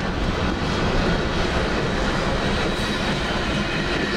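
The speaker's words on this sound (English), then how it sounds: "56 loaded military train in Luray, Virginia," A heavy loaded military freight train carrying US military equipment rumbles past close by in Luray, Virginia, a loud continuous roar of wheels and rolling cars with a faint metallic rattle.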